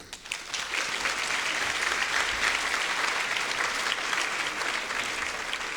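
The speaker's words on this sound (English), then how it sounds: "A round of applause for all of you." At the Hispanic Bar Association's 34th annual gala, the audience applauds the board with a sustained, even round of clapping that starts after a brief pause and holds steady to the end.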